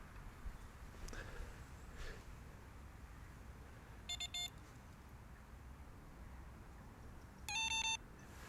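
Fishing bite alarm on a pike rod set up with deadbaits, giving two short bursts of rapid electronic beeps, a brief one mid-clip and a louder one near the end, over steady outdoor background noise.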